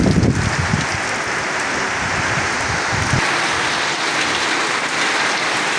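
Heavy rain pours down in a coastal area of Patuakhali, a dense, steady hiss of drops on surfaces with a brief louder patter early on, close and continuous without voices.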